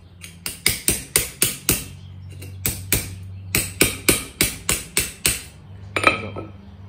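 Blacksmith hammering the small corners of a forged metal tulip, about sixteen sharp, ringing strikes in quick bursts with a short pause between groups, then a final brighter clink.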